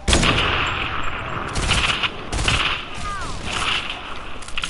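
Video game gunfire while shooting down an enemy, loud bursts of rapid shots in several clusters over continuous game noise and a whistling sweep, with no clear talk.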